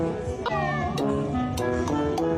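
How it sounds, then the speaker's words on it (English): A cat meows several times in a row, loud and close, in a short video clip played during a livestream, with a plaintive, rising-and-falling tone. "look at this cute little kitty cat."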